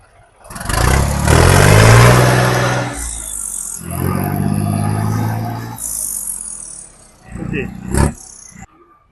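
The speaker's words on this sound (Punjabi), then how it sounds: "ਉਹ ਦੇਖੋ ਆਪਣੇ ਹਾਲੈਂਡ ਦੀ ਆਵਾਜ਼ ਵੀ ਚੈੱਕ ਕਰ ਸਕਦੇ ਆ" A Holland tractor engine roars and revs loudly up close in several strong bursts, dropping back between them, with a brief voice near the end.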